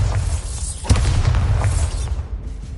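A Bombarda spell detonates in a Harry Potter-style wizarding video game, a loud booming blast with a sharp hit near the start of its rumble, followed by sustained low roaring that fades toward the end.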